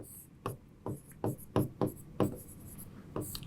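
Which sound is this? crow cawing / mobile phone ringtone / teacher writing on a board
teacher writing on a board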